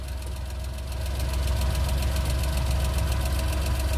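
Suzuki F6A engine of a Multicab running just after starting: steady close idle with a rapid even knocking pulse and a low rumbling drone that grows slightly louder after the first second.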